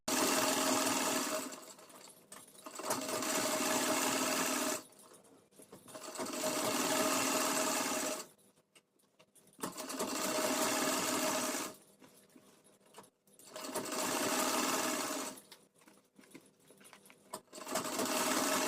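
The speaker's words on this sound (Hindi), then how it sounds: "इस तरह से धार स्टिच लगा देंगे" A sewing machine stitches the hem of a lehenga in five long steady runs of a few seconds each, separated by short pauses.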